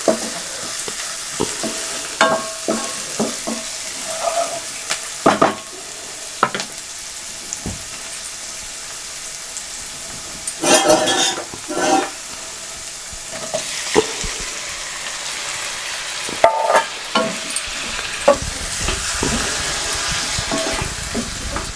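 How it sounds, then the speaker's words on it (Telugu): Fenugreek leaves and tomatoes frying in oil, a steady low sizzle broken by repeated scraping and clattering from a stirring spoon in the pan, with no talking. "ఇది ఒక్క నిమిషం నూనెలో ఫ్రై చేసుకొని ఇప్పుడు టమాటాలు వేసుకుంటాం"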